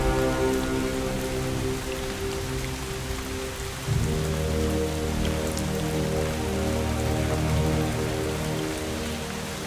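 Rain in the video game Drizzlepath: Genie, a steady, dense patter of drops on surfaces with a low droning tone underneath, continuous and fairly loud with no voices.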